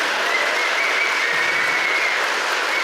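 Dense, steady applause from a hall audience at a children's performance show, a continuous wash of clapping with no voices.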